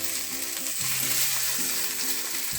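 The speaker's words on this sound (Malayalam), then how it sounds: "ചിക്കൻ അങ്ങോട്ടും ഇങ്ങോട്ടൊക്കെ മറിച്ചിട്ട് എല്ലാ സൈഡും ഒന്ന് ബ്രൗൺ ആക്കി എടുക്കാം" Stuffed whole chicken frying in a pan, a continuous loud sizzle and crackle of hot oil with faint scraping and turning noises, close and alone.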